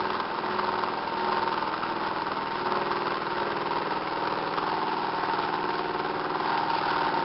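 A small engine runs steadily on its generator coil, its speed sagging and then settling into an even idle-like drone, loud and close with no talk throughout.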